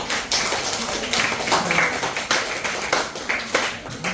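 A group claps the rhythmic Indonesian Pramuka scout pattern, quick double claps followed by single claps in a steady sequence, with voices chanting along throughout.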